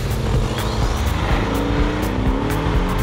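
Porsche 718 Cayman GTS (2018) with PDK launch control, engine droning loud and steady as the car pulls hard under acceleration, with rising engine tones and road roar throughout.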